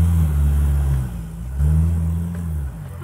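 A 1962 Willys Interlagos, a light Brazilian sports car with dual carburetors, drives close up with a deep, throaty engine rumble that swells, eases off and builds again as it revs.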